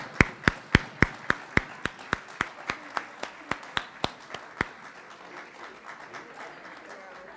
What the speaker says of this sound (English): let's give them a round of applause while they're coming up for all the hard work that they put in